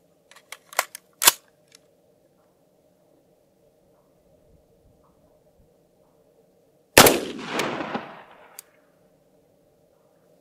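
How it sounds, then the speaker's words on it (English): An 8-inch AR-15 upper fires a reduced-velocity M80A1 round outdoors at a range: one sharp, loud shot with a rolling echo, after quieter clicks and a long stretch of near silence. "We're going to shoot it from an ARFCOM 8-inch AR-15 upper."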